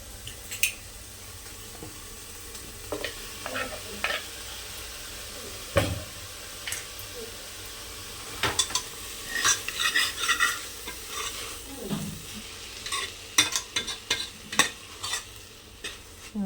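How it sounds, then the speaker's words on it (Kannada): Tomato frying in a pan with other ingredients for drumstick leaf saaru, stirred with scraping utensil strokes over a soft sizzle, close and intermittent, no talking. "ಸ್ವಲ್ಪ ಟೊಮೆಟೊ ಹಾಕಿ ಫ್ರೈ ಆಗಬೇಕು"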